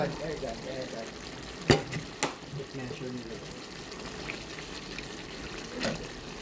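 Pork steak fries in a pan with a steady, soft sizzle, broken by a few sharp clinks of a utensil; a voice talks quietly over the cooking.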